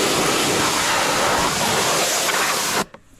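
Water sprayed to wash out the front bar of a race car, making a steady, loud, close rushing hiss that cuts off abruptly near the end.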